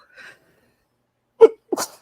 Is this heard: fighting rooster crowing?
no